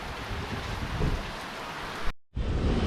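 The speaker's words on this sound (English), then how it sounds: "heard the rain start" Rain falling over an outdoor boat-restoration project on an Angler 252 fishing boat, a steady broadband hiss of drops that cuts out briefly near the end before resuming, close and without any voices.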